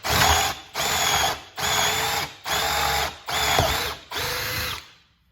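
A power drill with a depth-collared Forstner bit bores hinge holes into a camper top cupboard in five loud, even bursts separated by short pauses, and the last burst winds down to silence.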